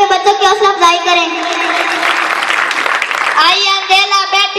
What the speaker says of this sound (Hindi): भरपूर तालियां में बच्चों की हौसला अफजाई करें